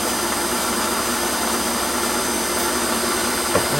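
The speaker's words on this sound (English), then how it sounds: "I'll just keep that lubricated while I center drill it." Steady machine drone of a Warco lathe centre drilling aluminium, lubricated with WD-40 brushed on, running continuously at moderate level with a brief knock near the end.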